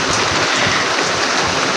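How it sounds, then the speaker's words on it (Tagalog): Heavy rain pours down steadily during a string bean harvest on a farm, a dense, loud, unbroken hiss with no voices. "Gawa ng malakas yung ulan."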